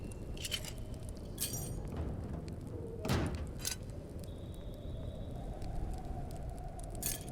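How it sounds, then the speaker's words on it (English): Distant explosions from a base raid in the survival video game Rust, with one deeper thud standing out midway over steady ambient rumble and scattered faint crackles. "They're you can hear from my base that they're still raiding it. Explosion in the distance."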